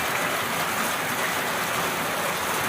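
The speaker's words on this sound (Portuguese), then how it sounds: "Muita chuva aí na frente do serviço." Heavy rain pours outside a workplace on a Thursday, a steady, dense wash of hiss close to the microphone with no break and no voices.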